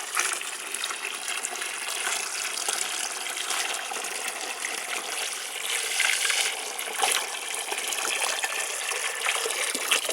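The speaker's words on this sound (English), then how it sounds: "just fill them up with water" Water gushing and splashing steadily as garden containers, weighted down with a brick, are filled up for a plant-feed brew, a continuous close rush with no talk.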